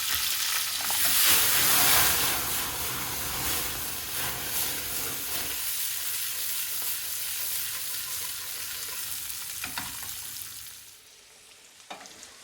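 Chopped green and red peppers fry in a hot pan of ghee and cumin seeds for a paneer jalfrezi. A loud, steady sizzle hisses throughout, easing gradually and dropping away near the end, with a few stirring scrapes.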